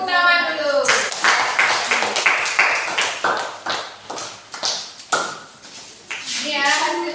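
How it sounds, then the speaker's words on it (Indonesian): Children in a classroom clap in a brisk, rhythmic patterned burst of sharp claps, close and loud, with voices heard at the start and end. "Tepuk tangan dulu."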